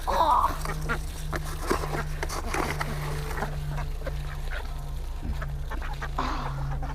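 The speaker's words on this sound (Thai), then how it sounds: "เราให้อาหารเป็ดเรียบร้อยแล้วก็จะมาเก็บไข่" Ducks on a farm quack as a crowded flock is fed, their calls overlapping continuously over a low steady hum for the whole stretch.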